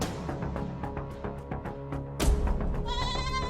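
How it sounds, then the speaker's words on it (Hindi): Goat bleating in a farm setting, a run of quavering animal cries heard close and loud over a busy background, with a sharper, brighter bleat toward the end. "बकरी को शोर आ रहा है"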